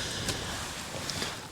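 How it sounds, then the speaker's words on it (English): Gusts of wind buffet a tent pitched on a snowy Scottish mountain, a broad rushing noise that swells and eases with a few sharp flaps of fabric. "As you can probably hear in the tent, the wind just comes and goes"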